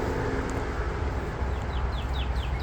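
A bird gives a series of short, rising chirps toward the end, over a steady background hum.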